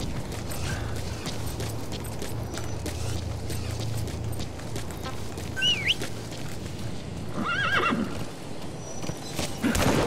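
A horse in the video game Metal Gear Solid 5: The Phantom Pain whinnies over a steady rumbling backdrop with clopping hooves and creaking, then a second whinny follows near the end.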